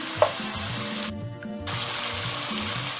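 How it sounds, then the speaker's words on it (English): Meatballs fry in a pan ahead of a tomato, onion, chili and garlic stew, giving a steady close sizzle with stirring scrapes and a brief dip partway through, no voices. "My meatball is cooking now."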